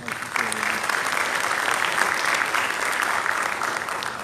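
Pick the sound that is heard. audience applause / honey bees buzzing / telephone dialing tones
audience applause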